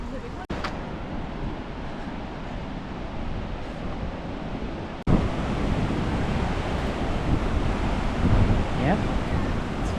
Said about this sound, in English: And the sounds of like the flowing water and the sound of the waterfall in the background.